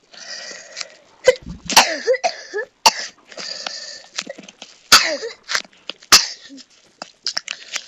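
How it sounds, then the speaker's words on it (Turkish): Repeated bursts of coughing, close and loud, coming in uneven clusters across several seconds with short pauses between. "neden bu kadar öksürüyoruz derseniz"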